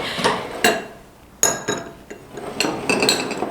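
A spoon stirs homemade shampoo ingredients with sugar in a bowl, giving sharp, irregular clinks and scrapes against the bowl, close and fairly quiet, with no talking.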